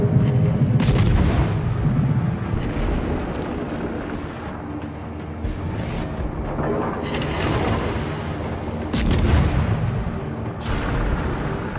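Naval guns boom repeatedly in a warship battle video game, with heavy blasts layered over continuous rumbling combat noise at close range.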